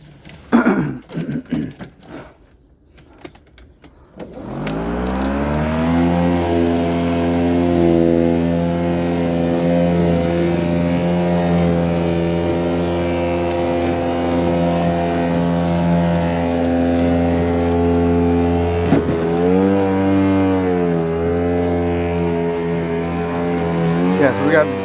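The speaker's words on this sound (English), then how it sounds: "I gotta move my car, my truck." A pickup truck engine starts after a few seconds of shuffling and then idles steadily and loudly up close, with a brief rev near the end.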